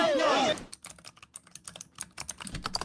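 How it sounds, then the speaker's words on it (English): Loud computer keyboard typing during a gaming stream, a rapid run of sharp, close clicks and clacks that follows a brief strained vocal outburst. "The keyboard's so loud."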